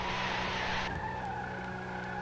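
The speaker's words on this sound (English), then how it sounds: "Let's do a peel in this car." A car peels out with a loud, sustained tire skid that squeals for about a second, then cuts off, leaving the engine running steadily underneath.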